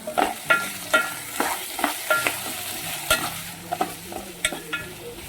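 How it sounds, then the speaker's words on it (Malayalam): Utensil stirring eggplant and potato masala curry in a sizzling pan, with repeated scraping strokes over a steady frying hiss, close and fairly loud, no talking. "ഇതൊന്ന് ഇളക്കി നോക്കാം"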